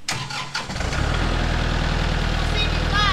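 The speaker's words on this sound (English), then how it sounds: "I'll raise the tractor bucket up a little okay." A tractor's engine starts and settles into a loud, steady throbbing idle as the bucket is raised, with a faint whine rising near the end.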